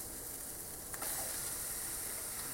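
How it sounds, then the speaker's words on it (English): Steady, close sizzling hiss of pak choy hitting a very hot cast aluminium pan on an AGA boiling plate, jumping a little louder about a second in and staying strong. "You can hear that sizzle, tells us we've got the pan good and hot"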